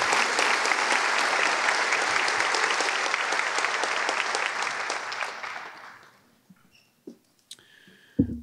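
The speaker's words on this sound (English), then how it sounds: "One more round of applause" Audience applause at a high school senior awards night honoring scholarship donors, a dense sustained clapping that fades out after about six seconds, leaving a few scattered claps and small noises.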